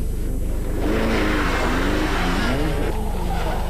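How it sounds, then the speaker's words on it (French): Rally cars from the 1994 French rally championship slide through a hairpin bend, with loud, close engine revving and squealing, skidding tyres in one continuous roar. "Les pilotes rivalisent d'acrobatie pour épater les spectateurs."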